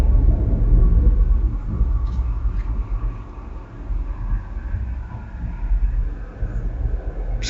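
Thunder from a powerful storm rolls on as a deep, continuous rumble. It is heavy and steady throughout, with no voices over it.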